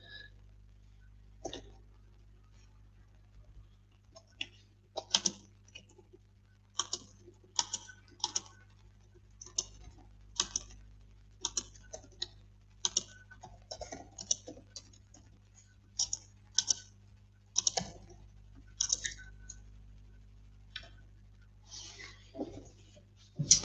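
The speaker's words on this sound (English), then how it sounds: "I'm just going to type into the live chat" Typing on a computer keyboard into a live chat, bursts of quick close key clicks separated by short pauses, over a low steady background hum.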